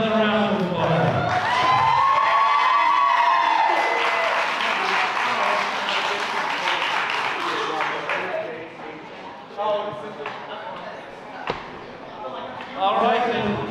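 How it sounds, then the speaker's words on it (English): Applause and cheering from the crowd at a powerlifting pro series finals equipped bench event, loud dense clapping with shouts and whistles near the start, thinning out as an announcer talks over it. "Give the boys another round of applause."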